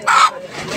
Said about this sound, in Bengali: একদম খাঁটি দেশি মোরগ